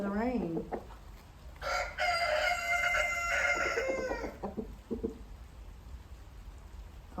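A free-ranging rooster out in the rain lets out a full, loud crow, with a shorter call before it and a few clucks afterward, against a light patter of rain.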